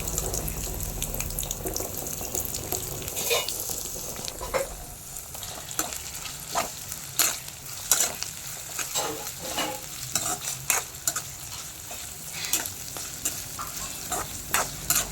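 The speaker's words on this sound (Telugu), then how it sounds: "ఆనియన్స్ వేయించుకున్నామండి" Onions frying in ghee in a pan for chicken dum biryani, a steady close sizzle with frequent scraping stirs and clinks of a spoon throughout, no voices.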